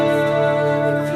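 Stratocaster guitar through a heavy chorus effect holds one sustained chord, ringing steadily and fairly quietly with no voice over it.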